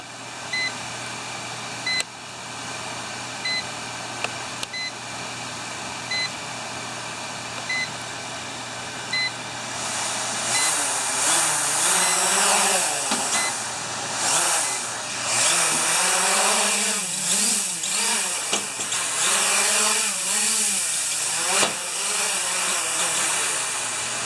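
A Hubsan 501s quadcopter drone is armed with repeated regular electronic beeps, then its motors spin up into a loud, steady high-pitched whine that rises and falls as it climbs and holds altitude.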